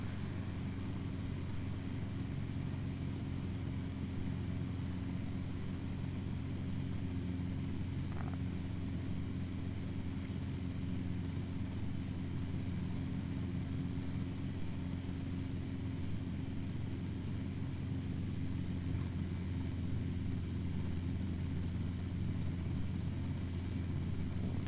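Robinson R22 helicopter engine and rotor in the Aerofly FS2 flight simulator, a constant low humming drone with steady tonal bands, unbroken and without talk for the whole stretch.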